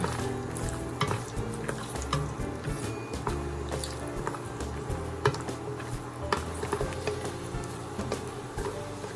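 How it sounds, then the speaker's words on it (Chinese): Peanuts fry in hot oil in a wok, crackling and sizzling steadily while the spatula stirs with frequent clattering scrapes and knocks against the metal; no speech. "锅热，加油，放入花生"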